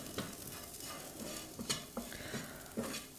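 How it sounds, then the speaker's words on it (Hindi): Stir-frying with Maggi masala in a pan: a low sizzle runs under repeated scraping and clinking strokes of a spoon against the pan, close and moderately quiet, with no voices. "और मैगी मसाला हमें लास्ट में डालना है और इसको अच्छे से भून लेना है।"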